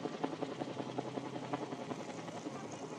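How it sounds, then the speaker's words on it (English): Several police helicopters circle overhead during a street protest in Louisville, their steady rotor chop fairly distant and blended into a constant outdoor rumble with faint crowd noise. "I can hear at least 3 helicopters right now."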